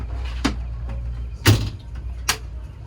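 Bow block-off door on a 2021 Grady-White Freedom 275 boat clicking and latching, three sharp close knocks spaced about a second apart over a low steady hum.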